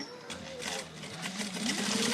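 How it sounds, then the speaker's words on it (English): A sewing machine back stitches a zipper pocket on a bag, a faint, fast mechanical whir with a soft rhythmic chatter that rises slightly toward the end. "we're gonna stitch a little back stitch right here and then all the way off to the edge"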